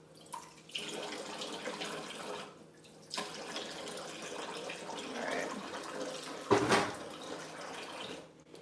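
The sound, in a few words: adding water to cookie glaze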